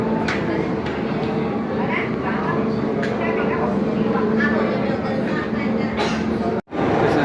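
Pyongyang Metro train rumbling through the world's deepest metro station, 110 meters underground, a steady loud roar with clatter and echoing crowd noise, voices mixed in, and a brief cutout near the end.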